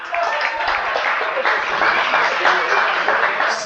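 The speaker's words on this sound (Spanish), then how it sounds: "Fuertes los aplausos" An audience at a 1998 festival honoring San Juan applauds, a dense, steady clapping that stays loud for a few seconds.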